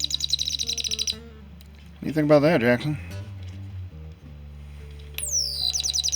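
A rare vintage chirping bird Christmas ornament gives bursts of high, rapid electronic chirps at the start and again at the end, with someone talking in between.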